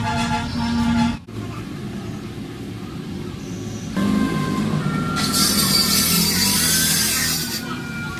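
A Swaraj 735FE tractor transmission running in first gear makes a continuous mechanical rumble with a whining edge. A brief dropout comes early, then a harsher, louder grinding squeal rises near the end.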